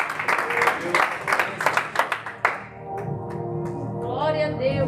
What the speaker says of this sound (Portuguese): Uma salva de palmas também para Jesus.